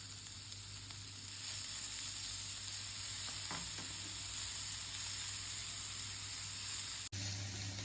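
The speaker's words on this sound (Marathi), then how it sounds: "कांद्याला थोडा रेडनेस येईपर्यंत त्याला परतून घ्या. आता मी इथे बाकीच्या कटिंग गोष्टी टाकून घेणार आहे." Onions and chopped vegetables fry in a pan, giving a steady close sizzle and hiss that grows as more ingredients go in, with occasional stirring scrapes and no talk.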